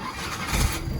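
A Peugeot 3008 in a junkyard starts up with a short burst of cranking and the engine catching. It is a brief, moderately loud rumble.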